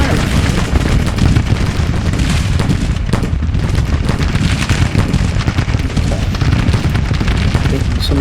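Musket and cannon volleys in a Civil War video game keep up a dense, loud roar of crackling gunfire and heavy booms for the whole stretch, with a voice partly buried beneath the din.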